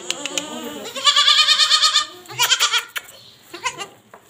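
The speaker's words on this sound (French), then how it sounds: "c'est les plus petites des chèvres" Young goats on a small farm bleat in a quick run of wavering, nasal cries, close and fairly loud, followed by a few shorter bleats with brief pauses between them.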